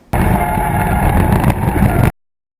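A Mazda RX-7 FB rotary car drifting, its engine and tyres giving a loud, steady roar close to the microphone with heavy wind buffeting for about two seconds, then cutting off abruptly.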